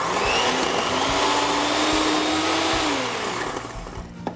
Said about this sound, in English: then I'm going to mix it up with my mixer, electric mixer